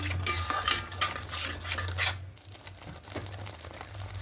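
Spices and sour yogurt being stirred and fried in a pan for a vegetarian potato-paneer curry, with steady scraping and clinking of a spoon against the pan and a low background hum, no talk.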